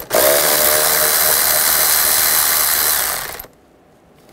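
A power tool with a 10 millimeter socket whirs steadily, loud and close, loosening a worm hose clamp on a Toyota Prius from the 2004-2009 generation, then cuts off abruptly near the end, leaving quiet.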